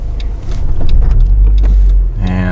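A manual car pulls away from a stop in traffic, its engine note rising from a low idle rumble as throttle is applied at the friction point, close and steady, with a brief brighter tone near the end.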